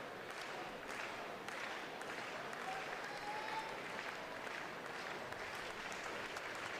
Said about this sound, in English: Our triple jumpers looking for the claps from the crowd.